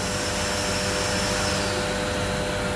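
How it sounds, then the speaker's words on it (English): A PETG recycling extrusion machine, which heats plastic flakes and pushes them out as strands, runs with a loud, steady, vacuum-like roar and whine, unbroken throughout. "this machine heats the flakes up and sprays them out into kind of like a stringy material"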